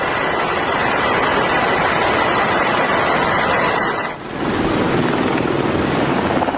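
Military helicopters landing on a cargo ship at sea, a loud continuous rotor and turbine roar with dense wind-like rush, close, briefly dipping before the heavy drone resumes.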